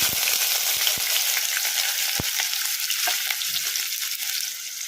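Chopped onion and green chilies hiss and sizzle in a hot mustard-seed and cumin tempering, a loud steady frying crackle with a few sharp pops and stirring scrapes, no voices.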